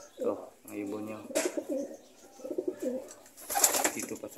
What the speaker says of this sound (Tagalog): Ito, ang ibon niya.